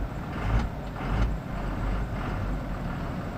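A diesel truck with a P-pump engine drives along with a steady, loud low rumble and a couple of brief swells in engine noise, with no voices.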